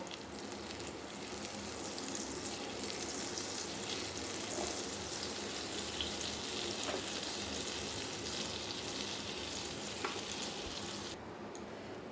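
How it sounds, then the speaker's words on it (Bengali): Butter sizzles on a hot tawa griddle for pav bhaji, a steady, close, bright crackle and hiss that runs evenly with small pops throughout, no voices. "এবার চাটুর ওপর দিয়ে দেব বাটার ভালো করে এটা চাটুর মধ্যে মাখিয়ে নেব"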